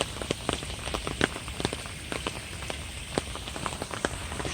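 Heavy rain falling near a garage, a dense steady patter with frequent sharper drop impacts and splashes scattered throughout, close and fairly loud, no talk.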